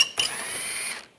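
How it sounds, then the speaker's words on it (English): A ratchet wrench fitted with an 8mm socket turns a bolt on a 2013-2016 Dodge Dart front bumper cover: a brief mechanical clicking burst, close and fairly quiet, then a short fade. "this is a 8mm socket I'm going to use to take this one out"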